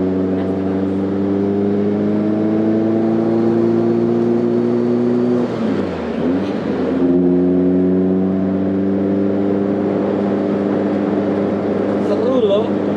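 Inside a Caterham sports car on the move, the engine gives a steady, buzzing drone. Its pitch drops and wavers briefly midway, like a gear change, then it settles back into an even cruise.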